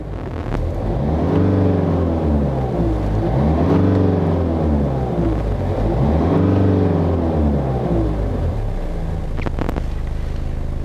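A car engine revs in three smooth rising and falling swells while parked, with the engine running steadily near the microphone between presses of the gas pedal during a diagnostic scan.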